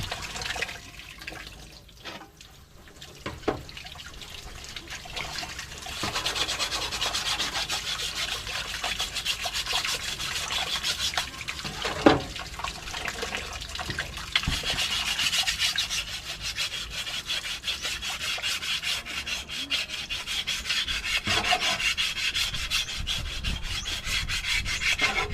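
A dull sickle blade is sharpened with steady, repeated rasping strokes of metal against a stone, rhythmic and close, continuing for about twenty-five seconds without talk.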